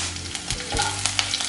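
Green chillies hit hot oil and ghee in a pan for mutton pepper fry, giving a steady close sizzle with brief stirring scrapes, no voices.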